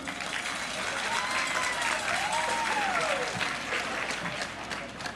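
Crowd applause at a ceremony handing over 384 Minha Casa, Minha Vida apartments in Camaçari, a steady dense clapping lasting throughout, loud and sustained with faint voices mixed in.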